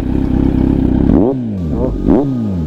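A Kawasaki Z900 SE, a 900cc motorcycle, runs loud and close at a steady idle, then gives a couple of quick throttle blips that rise and fall.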